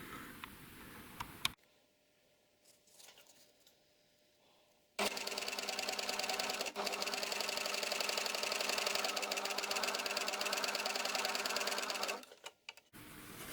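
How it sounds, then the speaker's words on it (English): A coverstitch sewing machine starts up and runs steadily for several seconds with a fast, even mechanical rattle, close and loud, then stops; quieter handling noise comes before it. "Now I'm going to fire up my machine, plug it in and fire it up, and give this a whirl"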